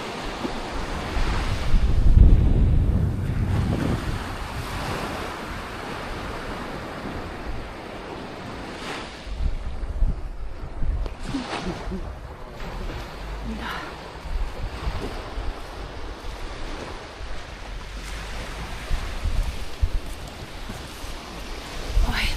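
Sea waves on Langeron beach in Odesa, after a storm, washing and breaking on the shore with a low, surging roar mixed with gusty wind noise on the microphone, a strong surge early on.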